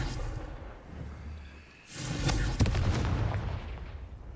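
A Confringo fire spell explodes in the video game Hogwarts Legacy, a deep booming blast with a sharp crack near the middle, followed by a rumbling tail over continuous game background sound.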